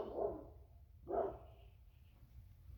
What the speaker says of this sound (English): my dog wants to bark at the cat again